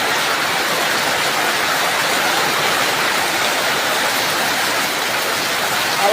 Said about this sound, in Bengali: দেখছেন এত সুন্দর বৃষ্টি হচ্ছে, আল্লাহর রহমতের বৃষ্টি।